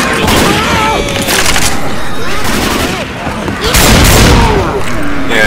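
Rapid gunfire rattles through a Left 4 Dead 2 zombie fight, loud, overlapping volleys and booms piling up constantly, with players shouting over the shooting.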